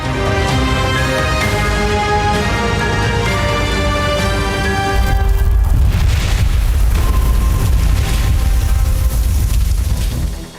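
LORA missile strikes on an Iranian oil depot rumble as a continuous loud, booming roar, with a deeper, heavier low-end surge taking over midway and holding steady to the end.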